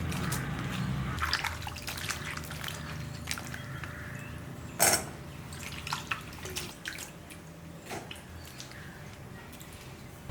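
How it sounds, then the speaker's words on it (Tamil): Water is poured over cauliflower pieces to wash them in a kitchen, with soft splashing, dripping and sloshing, one sharp louder splash midway, heard close and fairly quiet without talking. "அதுக்கப்புறம் மறுபடியும் ஒரு வாட்டி தண்ணி ஊற்றி நல்லா கழுவி எடுத்துக்கலாம்."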